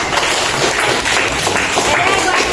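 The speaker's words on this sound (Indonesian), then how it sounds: "Kita tepuk tangan dulu." A class claps hands at the end of a history lesson, a continuous patter of many hands at close range, fairly loud and even throughout, with some voices mixed in.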